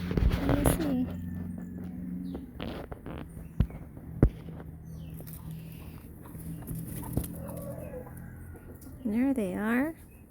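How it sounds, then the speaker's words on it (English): Chickens and a rooster in a farmyard, clucking in scattered short bursts close by, with a louder squawk near the end, under occasional talk and background noise. "There they are. There's the chickens."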